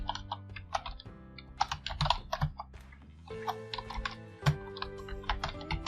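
Computer keyboard keys clatter in quick irregular bursts while dummy data is typed into a web form, close and clear, pausing briefly between words.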